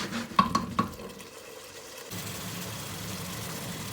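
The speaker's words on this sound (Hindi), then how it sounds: "तेज़ आंच पे इसको रखेंगे, पकाते रहेंगे, और साथ में हल्का हल्का इसको हम भूनते भी रहेंगे" Mutton with masala stirred and fried over high heat in a pot, cooking down into a curry with zucchini. A few sharp scraping knocks come first, then a steady low sizzle and bubbling runs alone to the end.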